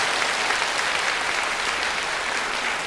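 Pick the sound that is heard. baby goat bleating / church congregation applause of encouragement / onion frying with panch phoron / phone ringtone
church congregation applause of encouragement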